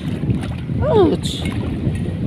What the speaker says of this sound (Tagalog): grabe ka hangin